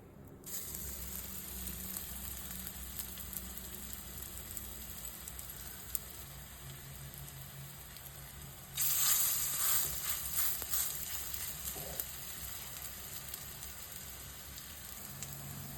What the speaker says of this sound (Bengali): এরপরে সজনে ফুলের বড়াগুলো ভেজে নেব। কড়াইয়ের মধ্যে সাদা তেল দেব।